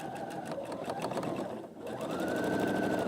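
A Roberts machine quilter runs a steady fast stitching whir with rapid needle pulses while sewing flying-geese quilt pieces a quarter inch from a line. The hum briefly dips in pitch, then resumes at a slightly higher, louder speed.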